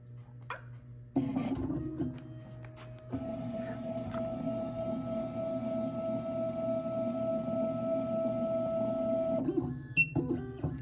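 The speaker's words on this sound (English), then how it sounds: "the machine is going through here, decoding this key, checking all 6 positions." A Miracle A9 key cutting machine decodes a key, probing six positions. It whirs steadily for several seconds with a constant motor tone, with clicks and clunks at the start and end.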